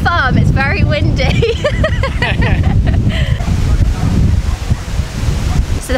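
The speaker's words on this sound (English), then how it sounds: "I can definitely confirm it's very windy." Strong wind on Bulabog Beach, the windy side of Boracay in the Philippines, roars and buffets the microphone in a constant low rumble, with people talking over it throughout.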